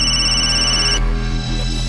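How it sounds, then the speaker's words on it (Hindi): An electronic telephone ringtone in a crime drama, a steady high-pitched tone that changes abruptly midway, loud and close, with no one talking. "नायगांव पुलिस स्टेशन से इंस्पेक्टर साठे का फोन था"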